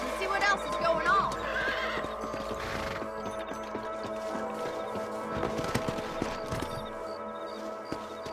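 Horses neigh and whinny while hooves clip-clop in the video game Red Dead Redemption on Xbox, the whinnies loud early on, followed by steady hoofbeats and game sounds, with voices heard.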